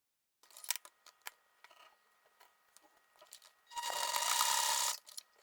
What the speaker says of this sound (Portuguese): Agora, nós vamos para a máquina e eu vou mostrar para vocês como é que a gente vai costurar